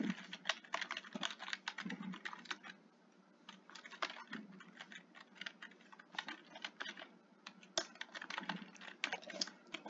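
Fingers typing Roblox script code on a computer keyboard, rapid close clicking in bursts with brief pauses between runs of keystrokes, no talk.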